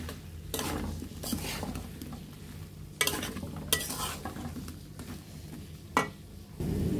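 Fried rohu fish-roe koftas are stirred through a thick, oily spice masala in a pan, with repeated loud scraping strokes of a spoon over a constant low sizzle, close up and with no talking.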